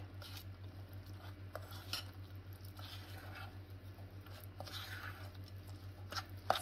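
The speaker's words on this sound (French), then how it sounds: "On écrase avec la cuillère tout en mélangeant de manière impeccable" Canistrelli biscuit dough made with white wine is mashed and mixed with a spoon in a bowl, giving soft sticky squelches and occasional light clinks over a low steady hum, fairly quiet with no talking.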